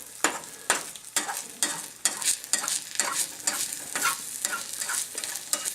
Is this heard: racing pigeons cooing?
no